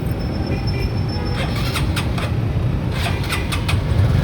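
A car engine idles steadily and loudly up close, a constant low rumble with light ticking on top.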